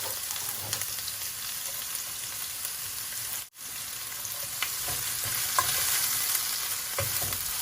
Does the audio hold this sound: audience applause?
no